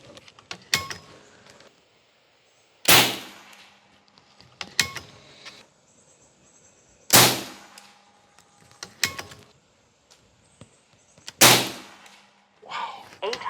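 An AEA Challenger PRO air rifle fires 60-grain Altaros slugs at a range, giving about five sharp, loud cracks spaced a few seconds apart, with quiet handling clicks and rustle between shots.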